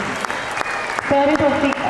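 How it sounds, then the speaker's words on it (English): Parents in the audience at a school annual day applauding, a continuous wash of clapping mixed with a voice and faint music in the hall. "Parents, we request you to clap and just welcome our grandparents"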